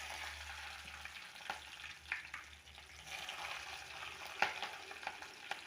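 Mustard seeds, curry leaves and green chillies frying in a pan, giving a faint, steady sizzle with occasional small pops and crackles.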